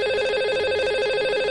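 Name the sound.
telephone call ringing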